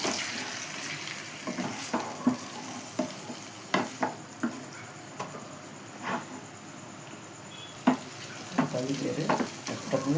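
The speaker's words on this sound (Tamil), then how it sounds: "நம்ம இதிலே வறுக்கப்படும்." Chicken liver frying over medium heat in a pan, a steady sizzle punctuated by repeated scrapes and clanks of a spoon stirring at irregular intervals, close by without speech.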